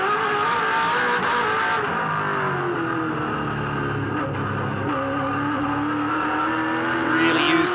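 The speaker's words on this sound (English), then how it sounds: "Torque of the engine climbing the hill there, third gear." A 2007 V8 Supercar's engine pulls hard up a hill at Oran Park in third gear, a loud sustained roar with the pitch climbing steadily and a brief surge near the end.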